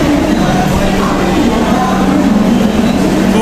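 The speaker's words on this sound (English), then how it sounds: "So this is our today's train." Vande Bharat Express train from New Delhi to Katra, heard as a loud, steady rumble with a constant hum, like a carriage interior or a platform beside the train.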